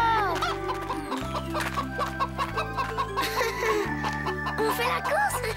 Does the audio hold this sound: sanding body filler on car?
no